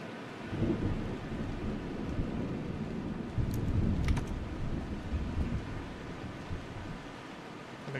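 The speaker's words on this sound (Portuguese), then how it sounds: "Eita, grosso a chuva." Heavy rain pours steadily in the survival game Vein, a dense continuous downpour with low rumbling thunder rolling through and brief sharper crackles midway.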